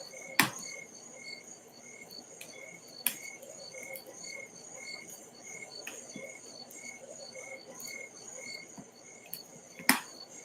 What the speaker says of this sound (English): listening to the fire and the crickets